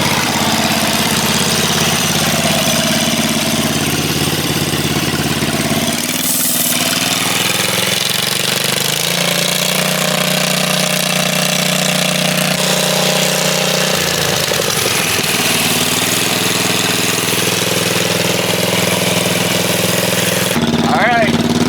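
A 1980 Daihatsu kei mini truck engine runs steadily throughout, a loud, continuous mid-pitched drone whose tone shifts at gear changes, with people talking over it.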